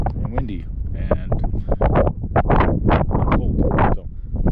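Wind gusts on a cold, high mountain pass (Hope Pass), rumbling and buffeting the microphone continuously while someone talks throughout over it.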